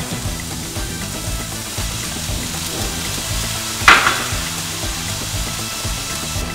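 Chicken and vegetables sizzle together in a frying pan for tacos, a steady broadband hiss with a brief clatter of stirring or added ingredients near the middle.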